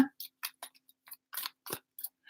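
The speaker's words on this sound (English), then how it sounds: "as I'm shuffling and getting ready to do Melinda's reading" Tarot cards are shuffled by hand in a series of quick, crisp, irregular flicks and snaps, close and fairly quiet, with brief silences between them.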